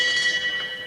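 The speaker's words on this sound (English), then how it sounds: "Break off at the exact moment of the bell." Ringing boxing round bell at an IBF flyweight title fight, a single sustained metallic tone that fades over under a second amid arena noise.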